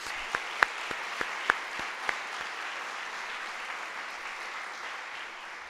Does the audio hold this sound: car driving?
no